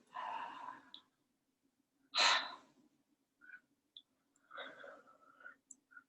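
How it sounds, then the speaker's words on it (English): Slow oxygenating pranayama breaths, drawn in through the mouth, come in a few soft, close bursts separated by quiet pauses in a calm breathing class. "Breathing in through the mouth and up. Just a very simple oxygenating breath."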